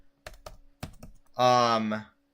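A few short clicks of arrow keys on a computer keyboard, sharp and close, come in quick pairs before a brief hum of voice.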